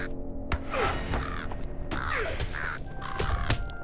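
In The Lord of the Rings Online, a crow caws several times in quick succession, loud and close, over a backdrop of game effects with short percussive hits.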